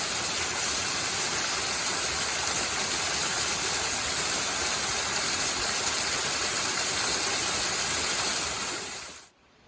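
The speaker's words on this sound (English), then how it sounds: "First little waterfall." A small waterfall on the Bartram Trail gives a steady, dense rush of falling water. It is loud and unbroken for about nine seconds, then cuts off abruptly at the end.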